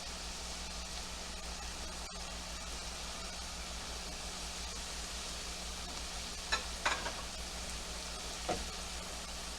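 Flour cooks in a pan for chicken fried steak white gravy, giving a soft, steady sizzle heard close but quietly, broken by a few faint scrapes of stirring.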